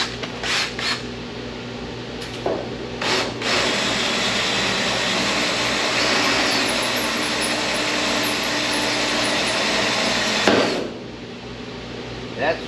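A power drill bores through the two layers of a car roof skin during rust repair on a Buick Riviera, a steady loud whine running about eight seconds with a few short bursts before and after.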